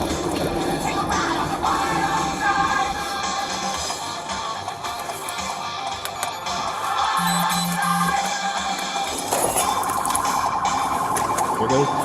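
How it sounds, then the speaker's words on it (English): Emergency vehicle siren wailing amid traffic noise and engine rumble, rising and shifting tones that grow more prominent toward the end, fairly close, with no voices present. "There goes the siren"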